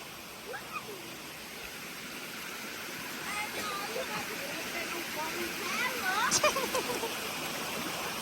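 Water rushes steadily over a dam spillway in a park reservoir, a broad continuous roar, while people talk and shout nearby over the noise.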